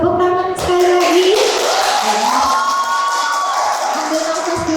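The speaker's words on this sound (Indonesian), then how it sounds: "tepuk tangan sekali lagi." A concert crowd cheers and whoops with shrill, excited voices, a dense roar close by, while a speaker's voice rises above it.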